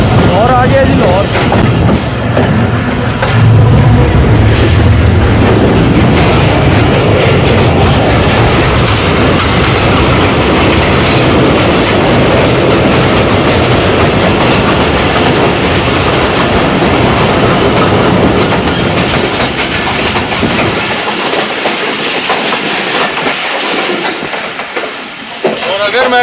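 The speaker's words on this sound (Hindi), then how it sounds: "ये थी 28 डाउन शालीमार एक्सप्रेस, अपने वक्त से कम बेश 10-15 मिनट लेट" The 28 Down Shalimar Express passing near Lahore, a loud, steady roar of rumbling and rhythmic wheel clatter close by that lasts over twenty seconds before it begins to fade at the end.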